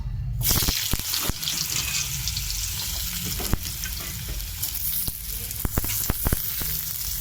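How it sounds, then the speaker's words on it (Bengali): Potatoes added piece by piece to hot oil with cumin seeds, sizzling and frying steadily throughout, with sharp crackles and occasional clatters of a utensil close by, and no speech. "এরপর এক এক করে আমি আলু দেবো।"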